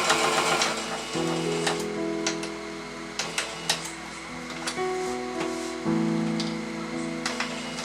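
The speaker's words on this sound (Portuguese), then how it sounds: "Eu sigo fazendo a costura nesse contorno aqui." A domestic sewing machine stitches fabric along the outline of a doll's carrier, running in close-up bursts of rapid mechanical chatter with short pauses and speed changes, plus small clicks and taps between runs.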